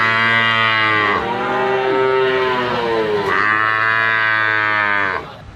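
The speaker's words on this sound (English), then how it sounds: "Yeah, that's the voice buffalo." Buffalo mooing in two long, loud, close calls, each a deep harmonic low that bends in pitch, with a short pause between them; no talking.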